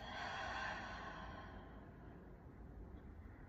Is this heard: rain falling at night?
no